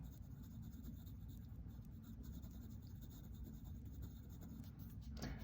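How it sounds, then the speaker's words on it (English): A pencil fills in paper during fine pencil rendering, building up layers of value. It makes a faint, close, steady scratching that runs on continuously without pauses, with no talking. "The only thing that you're doing in fine pencil rendering is filling in the paper"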